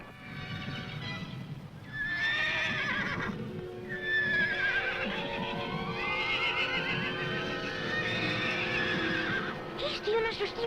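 A white stallion on a ranch whinnies loudly several times, with hoofbeats clopping underneath; the neighs rise and fall over a steady background.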